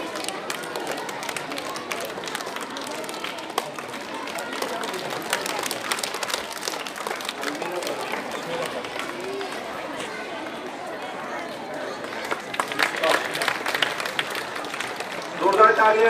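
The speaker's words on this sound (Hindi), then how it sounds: "जोरदार तालियां बच्चों के लिए।" An audience applauds children at an Urdu high school annual function and prize distribution, with dense, steady clapping throughout, crowd chatter mixed in, and a swell of louder clapping near the end.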